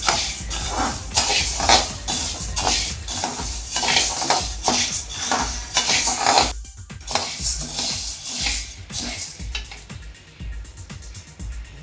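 Urad dal dry-roasting in a pan over a medium flame, with steady scraping and stirring of a spoon against metal and a soft crackle running throughout, the stirring pausing and thinning toward the end.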